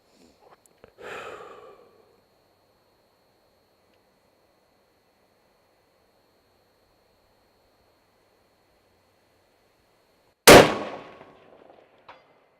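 A single 6.5 Creedmoor rifle shot fired at a distant target cracks out loud and close, then rings off in a fading echo; the rest is near silence apart from a faint earlier rustle.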